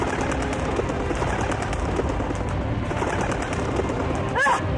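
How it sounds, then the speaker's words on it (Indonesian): A bird calls briefly near the end, a short rising cry over a dense, loud, steady wash of dramatic background noise from a period TV drama. "Burung sialan!"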